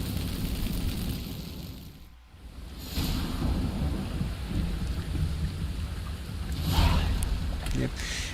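Rain in The Witcher 3: Wild Hunt, a steady broadband hiss of falling rain with a brief dip near the start and louder rumbling swells later, filling the scene without speech.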